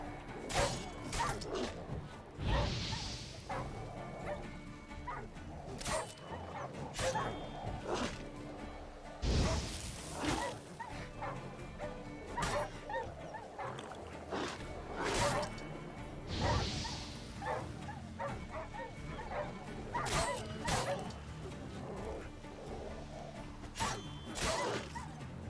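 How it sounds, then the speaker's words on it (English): Wild dogs bark and snarl during combat in The Witcher 3, with scattered yelps mixed among repeated whooshing swings, heavy thuds and crashing impacts spread across a busy fight. "I don't want to fight wild dogs."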